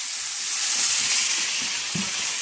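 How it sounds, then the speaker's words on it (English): Chicken and vegetables fry in a pan, giving a continuous bright sizzle with a few soft stirring knocks near the end. The cooking is close up, with no voices. "I've been frying this for about 10-15 minutes."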